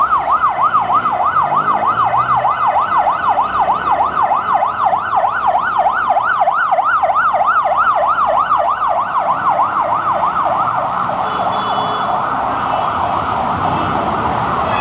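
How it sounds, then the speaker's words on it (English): A loud wailing ambulance siren sweeps up and down in rapid, regular cycles, close by and continuous, with traffic rumbling underneath. "Ambulance."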